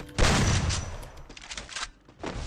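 Rapid bursts of gunfire sprayed at random in a shooting video game, loud and close, with a heavy volley at the start and further scattered shots toward the end.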